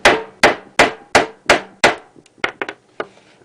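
A hammer strikes a laminated test piece of epoxy over polyester gelcoat six times in a steady, hard rhythm, each a sharp loud crack, followed by a few lighter, quicker taps.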